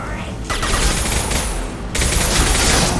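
Loud, continuous automatic gunfire from the Mass Effect 2 video game, a dense rattling barrage that briefly eases, then surges again even harder near the end, close and overwhelming.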